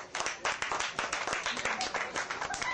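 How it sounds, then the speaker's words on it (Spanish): A fairly close round of rapid, irregular clapping from a crowd at a children's show with a costumed entertainer, steady across the stretch with a voice partly mixed in. "Y un fuerte aplauso para los niños."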